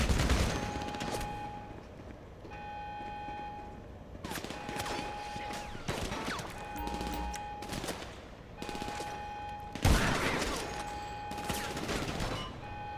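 Repeated bursts of automatic gunfire in GTA Online, sharp volleys separated by short pauses, moderately loud with a steady game soundtrack underneath and occasional talk.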